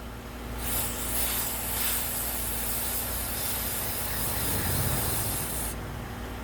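A continuous hissing spray from an aerosol cleaner can onto a mass air flow sensor, held for about five seconds, close and steady, then cut off.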